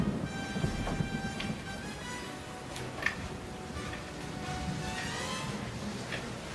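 Stage thunderstorm during a performance of The Tempest, steady rain hiss throughout with low rumbles and a few brief cracks, a continuous wash of storm noise at moderate level with no voices.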